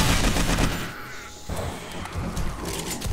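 Gunfire aimed at a regenerating demon enemy in the survival game 7 Days to Die with the Darkness Falls mod, a dense burst of shots that breaks off midway and then resumes, with no talking.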